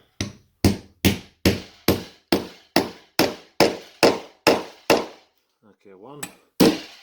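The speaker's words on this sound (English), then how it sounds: "I'll give them a little tap with the hammer now." Hammer tapping bolts into the metal lifting mechanism of an ottoman bed, a dozen sharp, evenly spaced ringing strikes close up, a short pause with a faint scrape, then two more blows.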